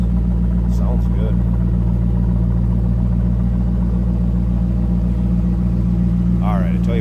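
Steady deep, throaty idle from the rear of a 2003 Chevrolet Corvette 50th Anniversary Coupe fitted with a Borla exhaust, close and continuous, with brief speech near the start and end.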